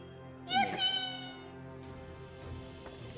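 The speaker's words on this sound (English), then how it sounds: "we have a new cat who hasn't been on stream before" Mabel, a pet cat, gives one clear, fairly close meow with rising and falling pitch, followed by faint room noise.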